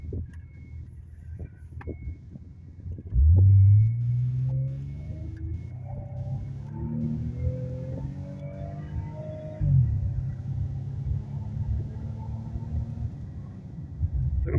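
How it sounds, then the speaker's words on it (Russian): A 230-horsepower Dodge accelerates flat out on asphalt, its engine roaring up through rising revs, dipping briefly at a gear change, then climbing again close by and loud. "Сейчас выйдем на асфальт, там в тапку в пол, посмотрите, как она скорость набирает."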